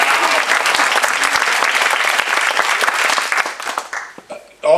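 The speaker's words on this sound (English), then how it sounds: "Go ahead, give a clap." Audience applause for a curator at an opening panel for an art exhibition, a dense steady clapping from a room full of people for about four seconds that thins and breaks up at the end.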